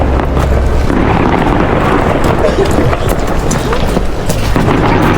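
Nonstop New Year's fireworks going off outdoors in Greenland, a thick rumbling wash of bangs and crackle mixed with wind buffeting the microphone.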